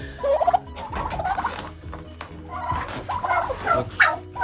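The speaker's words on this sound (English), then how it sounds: "Here's the turkeys." Several turkeys gobble in overlapping bursts, a noisy chorus of rapid warbling calls rising and falling close by, in a farm shelter at -31°C.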